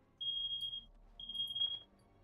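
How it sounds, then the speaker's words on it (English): A smoke alarm goes off with two long, shrill electronic beeps separated by a short gap. The beeps are faint and sound distant, and no one speaks over them. "I heard the smoke alarm going off"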